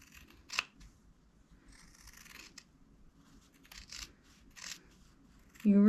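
Sharp scissors trim fabric corners on a sewing project, giving a few close, crisp snips spaced out over several seconds in a quiet room, with a brief louder bump at the end.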